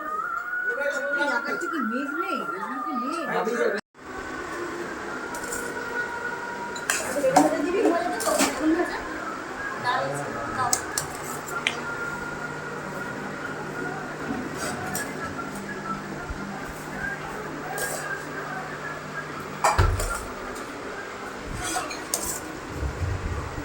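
Plates and cutlery clink and clatter intermittently during a family lunch eaten seated on the floor at home, light scattered taps and scrapes under ongoing conversation.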